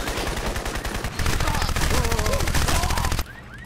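Weapon fire in the video game Crysis, a continuous rapid automatic rattle at close range that grows heavier midway and cuts off abruptly near the end, with faint voice-like tones under it.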